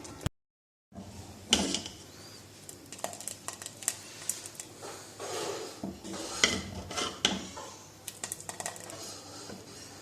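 Chicken haleem is dished out onto a plate with a spoon, bringing a scattered series of clinks, taps and scrapes of utensil on dishware, close but quiet, after a short silence at the start.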